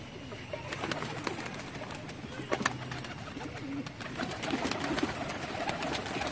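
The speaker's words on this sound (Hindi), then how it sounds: "ये देखें जी लाखा कबूतर" Lakha pigeons cooing in a loft of flying pigeons, soft low coos repeating beneath a steady wash of outdoor background noise and scattered flutters.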